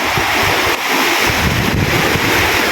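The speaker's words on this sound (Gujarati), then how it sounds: "બહુ પાણી આવ્યું છે તમે જુઓ એનો અવાજ સાંભળો" Loud, continuous roar of rushing river water released from a canal through gates on the Saraswati river, dense and turbulent, heard up close with no voices.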